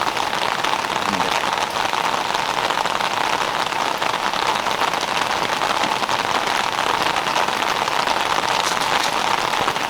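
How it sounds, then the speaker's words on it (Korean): Rain falling on a campsite beside a jungle valley stream, a dense continuous patter of drops on surfaces, loud and close throughout, with faint voices underneath. "어쩌다 보니 조금 우중 캠핑이네요."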